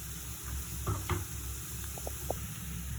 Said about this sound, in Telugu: వేసుకొని బాగా ఫ్రై అయిన తర్వాత బాగా కిందకి పైకి కలుపుకొని